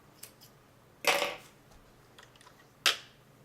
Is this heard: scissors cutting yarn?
yes